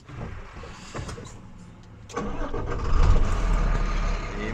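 A truck engine, on a rig with a manual gearbox and air brakes, cranks and catches after a couple of seconds of quiet cab noise. It rises into a deep, steady, close rumble that settles into a loud idle.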